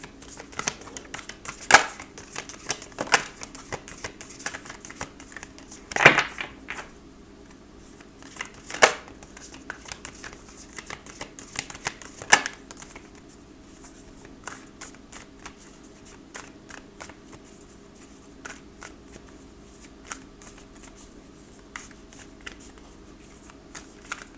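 Playing cards are shuffled close by in repeated riffles and soft flutters, with a few sharper snaps spaced through a quiet background.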